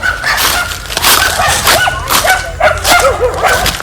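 Several dogs barking and yipping together in a run-down place, loud and close, with overlapping barks and a few whimpers throughout.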